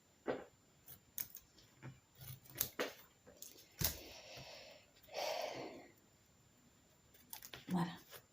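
Scissors snip through cardboard to trim it flush, making a run of short, crisp cuts and clicks close by, with brief breathy and rustling sounds between them.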